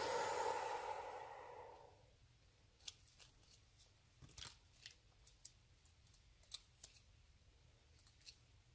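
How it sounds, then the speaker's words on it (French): Scissors snip through paper cutouts at a craft table while making a 3D greeting card, a handful of faint, sharp clicks spaced irregularly after a brief breathy rustle. "Ciseaux."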